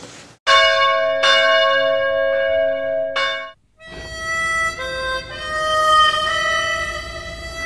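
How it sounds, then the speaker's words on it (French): An old church bell in the American Southwest rings several resonant strikes, each tone lingering and overlapping, then a second bell sequence follows with rich ringing overtones. "La plus vieille cloche des States"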